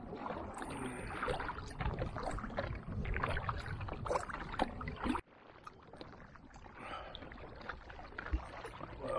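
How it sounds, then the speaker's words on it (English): Kayak paddle strokes splash and churn through choppy water while crossing Loch Ard, a rhythmic run of close, strong splashes with wind and water noise, softening briefly partway through. "I'm having to power paddle now to get across the loch"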